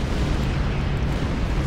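A sustained, dense roar of an explosion in the Star Trek Online video game, loud and broadband with no distinct onset, holding steady throughout.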